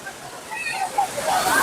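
Steady rushing water roars in the background, with people talking over the continuous broadband wash of a nearby waterfall, Kaviyaruvi near Valparai.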